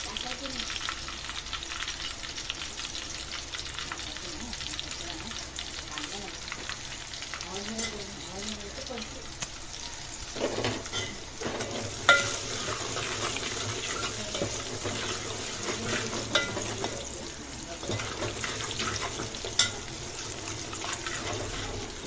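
Dried red chilies, green chilies and turmeric frying in oil for dal khichdi, a continuous close sizzle with occasional stirring scrapes and clatter, plus a running water tap in the background and a brief voice.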